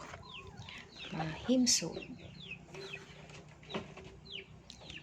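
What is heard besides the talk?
chickens clucking while being fed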